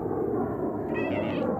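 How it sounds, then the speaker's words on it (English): A pet cat meows once in a yard with grass, one short drawn-out call near the end over a steady outdoor background hum, moderately close. "And funny thing, my cat's meowing."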